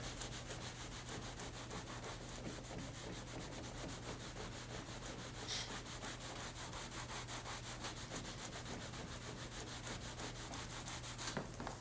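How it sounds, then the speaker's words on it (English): A cloth soaked in rubbing alcohol is rubbed over a leather car headrest, making a continuous, quiet, rhythmic scrubbing swish with fast back-and-forth strokes and no voices. "Just apply some of the rubbing alcohol on there like that."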